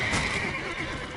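A horse neighs loudly and close in The Witcher 3, a single drawn-out whinny lasting about a second with faint game ambience underneath and no talking.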